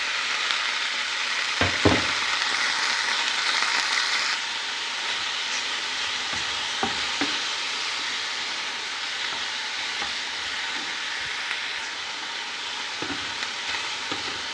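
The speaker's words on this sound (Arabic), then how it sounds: "حبايبي، وفي نفس الطاسه هننزل الفراخ." Chicken pieces go into the same pan used for an onion and pepper marinade, and a loud continuous frying hiss fills the pan, with a few clattering knocks of utensils near the start.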